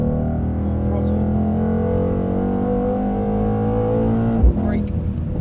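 Car engine pulling hard at full throttle on a track, a steady harmonic drone rising slightly under an instructor's voice, with a brief knock near the end.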